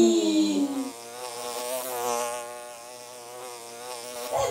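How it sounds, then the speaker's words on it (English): A steady, close buzzing drone from a bee with wings, holding a bright harmonic hum that swells slightly and then fades over a few seconds, with no talking. "That's a bee."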